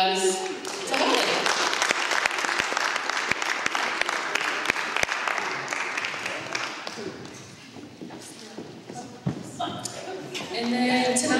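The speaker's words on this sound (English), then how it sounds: "So please give a round of applause to Holly." A school audience at senior internship presentations gives a sustained round of applause with sharp individual claps standing out, tapering off midway before voices speak again.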